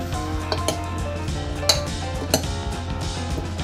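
A tomato salad with olive oil and vinegar is tossed in a bowl, giving soft utensil scrapes and a few sharper clinks against the dish at an unhurried pace.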